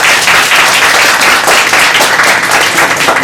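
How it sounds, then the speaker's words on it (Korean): A crowd applauds steadily at a Korean award ceremony for an essay contest, with dense, loud clapping that holds evenly throughout without any talk over it. "박수 부탁드립니다"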